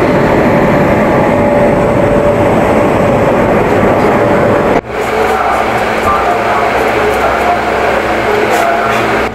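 The Patna Howrah Janshatabdi Express sits at a station platform, with a loud continuous rumble of train and station machinery that shifts abruptly midway.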